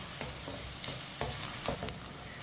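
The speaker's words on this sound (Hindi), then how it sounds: "ऐसे ही चम्मच चलाते हुए।" Onions browning in a frying pan over medium heat are stirred with a spoon: quiet, steady sizzle broken by several irregular scraping clinks of the spoon against the pan.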